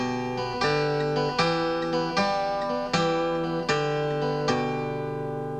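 An acoustic guitar plays a blues boogie pattern with a second string added between the bass notes, giving a slightly uneven, loping rhythm of plucked notes that ring out close and clear, with no talking.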